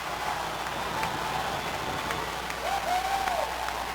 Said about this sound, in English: Crowd going crazy here.